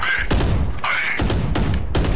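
Gunfire and a grenade blast in the Valorant shooter sound as a quick series of sharp, loud shots and thuds over about two seconds, with game effects and faint voices in the background.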